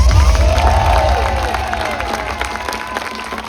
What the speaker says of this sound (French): J'aimerais qu'on applaudisse toute l'organisation et les bénévoles de Freely